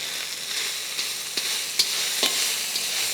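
Hot cooked rice for karipudi rice is added to a frying pan of golden-brown tempering and stirred, giving a steady close sizzle broken by repeated scraping clicks of the spoon against the pan.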